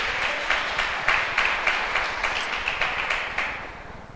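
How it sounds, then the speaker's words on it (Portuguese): A church congregation applauds during a sermon, a steady wash of many hands with sharper claps standing out at a loose, uneven rhythm, moderately loud with no speech over it. "Você pode aplaudir o Senhor?"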